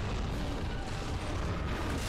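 Cannon fire in the video game God of War, a dense sustained boom with heavy low rumble and no distinct separate shots, loud and continuous throughout.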